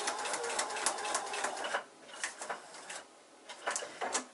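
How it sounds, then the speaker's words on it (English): Sewing machine stitching a foundation paper pieced quilt block, faint rapid mechanical whirring in several bursts with short pauses between them, close and without talk. "I'm stitching from where we meet the T-junction to where we meet the T-junction, and then backing up"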